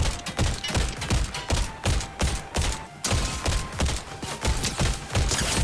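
Tactical DMR rifle shots in Fortnite fire in a rapid, steady string of punchy reports with thuddy low impacts, loud and close, continuing almost without pause.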